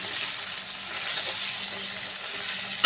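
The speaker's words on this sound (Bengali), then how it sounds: "আমার পেঁয়াজগুলো ভালো করে আমি ভেজে নিয়েছি, আর এবার আমি টমেটো কুচি দিয়ে দেব" Onions frying in a pan as chopped tomato goes in, a steady close hiss of oil running throughout with a brief clatter at the very end, no voices.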